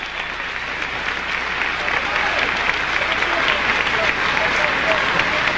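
A concert audience at a salsa show in Caracas, 1980, applauds for its stars: dense, continuous clapping from a large crowd that swells slightly louder midway and stays steady.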